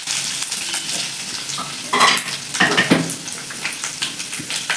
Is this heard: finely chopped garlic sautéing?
yes